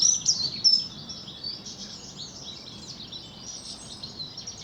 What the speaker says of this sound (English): Possibly a whitethroat.